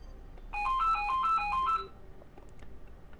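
A phone ringtone plays a short, clear melodic pattern of repeated electronic tones for over a second, then stops, leaving quiet background.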